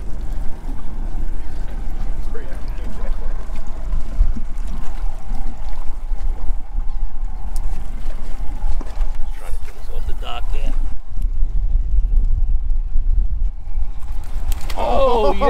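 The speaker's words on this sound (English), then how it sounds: "we're dealing with a lot of wind right now" Strong wind blowing across a small fishing boat on a back bay, a constant low buffeting rumble that stays loud for the whole stretch with a few knocks and rattles near the end.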